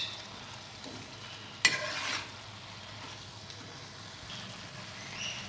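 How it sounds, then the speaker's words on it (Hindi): A spoon stirring tomato ketchup through chicken and vegetable spaghetti in a hot pan, with a soft steady scrape and a brief louder clatter near the middle over a low, constant sizzle. "मिक्स करेंगे इसे।"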